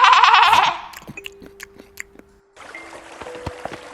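A lamb bleats loudly in a short quavering burst, followed by softer clicks and rustling.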